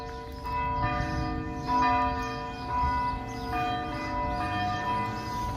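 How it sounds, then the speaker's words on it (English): Church bells ring steadily with a rich, sustained tone, repeated strikes overlapping into a continuous resonant peal. "They usually don't ring the bells like that"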